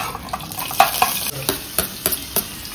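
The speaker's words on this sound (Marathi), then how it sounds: "हे टाकले आता कांदे. हे कांदे आम्ही घेतले परतवून." Onions being sautéed in a pan, a steady sizzle broken by a regular series of spatula stirs and scrapes, close and fairly loud.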